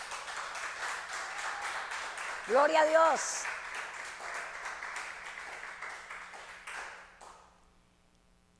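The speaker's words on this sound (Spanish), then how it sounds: "¿Por qué no le damos un aplauso al Eterno?" A church congregation claps steadily during a service, with a voice calling out partway through. The applause is moderately loud and fades away in the final seconds.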